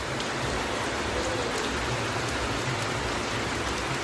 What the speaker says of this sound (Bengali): বৃষ্টি শুরু হয়ে গেছে আজকে।